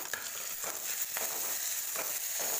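Curry leaves and ginger garlic paste fry on a stove turned to low heat, giving a dense, continuous sizzle with a few soft scraping stirs, with no talk.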